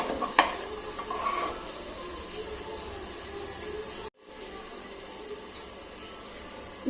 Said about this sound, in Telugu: ఇది కూడా వేసినాక కాసేపు ఫ్రై చేసుకోవాలి